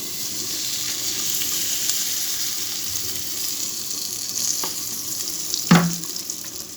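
Oil going into a pan of frying onions and green chillies, a constant close sizzle with light stirring scrapes and a brief clatter near the end, no talking.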